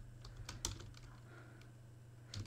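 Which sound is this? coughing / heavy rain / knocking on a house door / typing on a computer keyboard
typing on a computer keyboard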